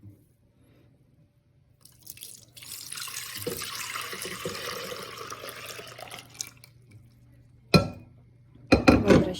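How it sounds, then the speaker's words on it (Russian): Custard cream mixture poured back into a saucepan, a steady thick liquid stream for several seconds, followed by a couple of sharp clinks of the pan and utensils. "Теперь всю смесь выливаем назад в кастрюльку"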